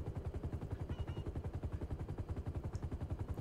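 A helicopter in a GTA video game, a fast rhythmic rotor chop pulsing evenly throughout, faint and somewhat distant.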